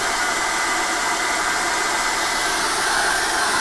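A hair dryer blows steadily on an acrylic seascape painting, a constant close whooshing hiss with no pauses.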